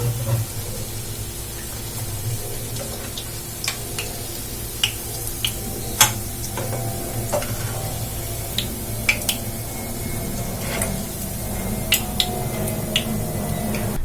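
Potato and rava snacks fry in hot oil, a steady sizzling hiss running throughout with scattered sharp crackles and pops, fairly close and even in level.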